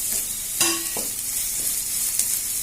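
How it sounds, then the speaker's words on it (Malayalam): Green chillies and curry leaves being sautéed in a pan, a close steady sizzle with a few scraping knocks of the spoon against the pan, and no talking. "നന്നായിട്ട് അങ്ങോട്ട് വഴറ്റി കൊടുക്കാം"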